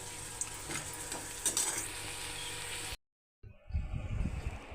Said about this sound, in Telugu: జీడిపప్పు కిస్మిస్ దోరగా వేయించుకోవాలి.